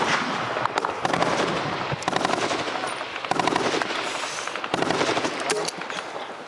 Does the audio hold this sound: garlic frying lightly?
no